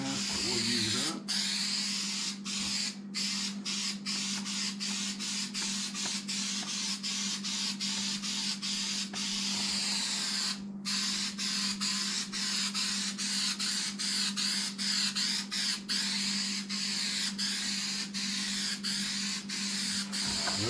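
Adhesive glue sprays from an aerosol can onto carpet pieces over cardboard during a boat build, a steady close hiss interrupted by short pauses, under a constant low hum.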